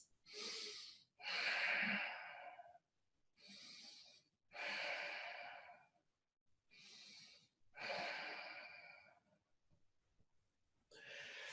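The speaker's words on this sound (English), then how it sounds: "we're going to take 3 deep breaths" Slow, deep yogic breathing, each inhale and exhale a long airy rush, about six breaths with short silent gaps between, close and fairly loud with no talking.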